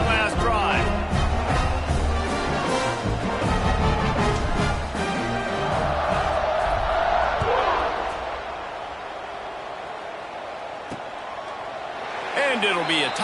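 A stadium crowd roars in an NCAA 26 college football video game during a kickoff, a loud sustained swell of cheering that peaks and then eases off, with a commentator talking over it.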